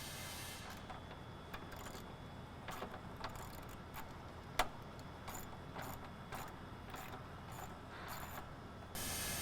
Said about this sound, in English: Remove the bolt securing the airbox to the vehicle.